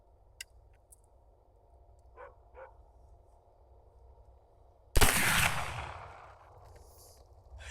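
Cap lock black powder muzzleloader rifle firing a single loud, close shot after several seconds of quiet outdoor ambience with faint distant barks, followed by a long decaying echo.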